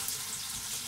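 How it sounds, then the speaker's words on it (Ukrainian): Steady, close sizzling of an egg frying in a hot pan, a continuous crackling hiss with no voices. "Быстро, бо у нас тут яйко горить."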